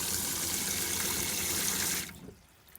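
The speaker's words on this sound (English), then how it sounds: "so now when I turn the tap to the hot water system, you should get a consistent cycle of hot water, cold water coming through" Hot water runs steadily from a tap on a Trigano Tribute caravan's hot water system, a close, broadband rushing stream that cuts off abruptly after about two seconds, leaving a faint drip.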